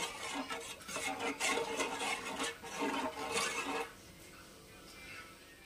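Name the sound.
stirring spice paste with water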